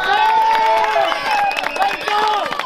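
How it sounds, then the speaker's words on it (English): Eighth-grade middle school football players clap and whoop for themselves after a game, shouting voices riding over scattered close claps in a lively team huddle. "Clap it up for yourself."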